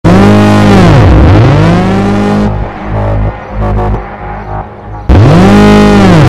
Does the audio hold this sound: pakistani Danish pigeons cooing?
no